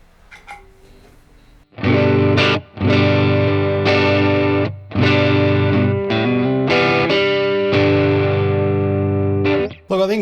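Heavily distorted electric guitar through distortion pedals and a Tonex One plays loud sustained chords and riffs, with brief pauses between phrases, close and alone.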